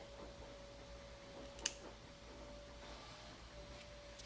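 Scissors trimming hair on a border collie's back feet, a single soft snip standing out against a faint steady background hum in a quiet room.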